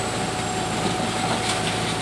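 A Hitachi EX120 excavator's engine runs steadily while the machine reverses onto a trailer, a constant droning hum with faint clanks, heard from a moderate distance and without talk.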